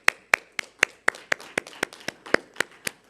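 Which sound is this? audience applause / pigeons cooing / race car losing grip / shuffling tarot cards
audience applause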